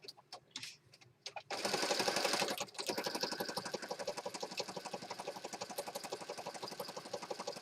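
A sewing machine that is threaded incorrectly stitches fabric for a peacock-themed journal, starting with a few short bursts and then running in a steady, rapid mechanical rhythm up close, alone and fairly loud.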